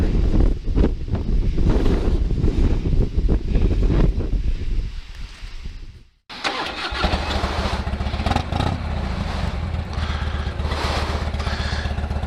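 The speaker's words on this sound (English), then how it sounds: "the final resting place of Buffalo Bill, we're going to head back down Lookout Mountain because it's getting a little bit breezy." Wind blowing on Lookout Mountain, a continuous loud buffeting rumble against the microphone that drops out briefly midway, then resumes just as strong and steady.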